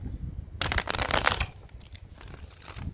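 Tarot cards are shuffled by hand, a close burst of riffling and slapping followed by softer, scattered card rustles.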